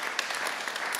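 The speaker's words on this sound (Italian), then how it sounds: "quindi un applauso difeso a Paolo Villon." An audience at a talk on Sardinian language breaks into a brief round of applause, a dense patter of clapping heard on its own for about a second.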